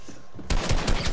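Gunfire in Fortnite, a rapid burst of close, loud shots that starts abruptly after a quiet moment and continues as steady repeated cracks to the end.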